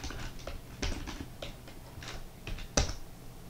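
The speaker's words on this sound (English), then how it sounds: "Am I typing the wrong password?" Someone types a password on a computer keyboard, a quiet run of irregular close key taps ending in one sharper, louder press like an Enter key.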